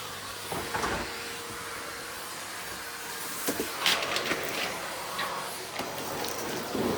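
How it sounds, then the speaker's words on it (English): A vacuum cleaner runs over a rug in a home, giving a faint, steady whooshing hiss. Soft bumps and knocks break in now and then as it moves. "Let's do a quick vacuum of the rug."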